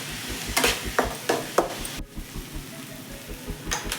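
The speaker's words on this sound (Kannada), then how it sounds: "ಸ್ವಲ್ಪ ಉಪ್ಪು ಸೇರಿಸ್ಕೊಂಡ್ರೆ ಫಾಸ್ಟಾಗಿ ಈರುಳ್ಳಿ ಫ್ರೈ ಆಗಿಬಿಡುತ್ತೆ" Onions sizzle and fry in a pan with a pinch of salt, a steady close crackle broken by several sharp scraping stirs, with no voices.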